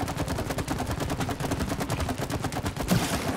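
Dense rapid gunfire from the video game It Takes Two as players shoot at targets: a continuous, even stream of sharp shots with no pauses.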